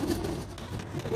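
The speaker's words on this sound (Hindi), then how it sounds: "कबूतर भी साथ ही है" Soft pigeon cooing from a caged pigeon kept with chickens, a low repeated murmur over a steady background hum, fairly close.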